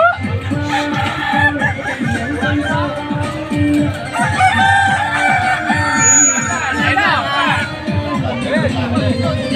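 Several Kukuak Balenggek roosters crow repeatedly in the final round of a contest in Padang, their long, stepped calls overlapping loudly against a murmuring crowd and background chatter.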